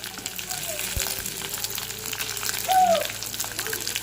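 Onions fry in a pan with a moderate, steady sizzle. A dull knock lands early and a short squeak comes near the end.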